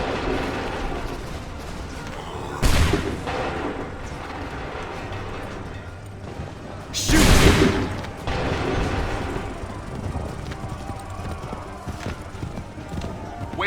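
Musket volleys crack out in Assassin's Creed 3, two loud broadband bursts about four seconds apart over a steady battlefield din with hoofbeats and shouted commands.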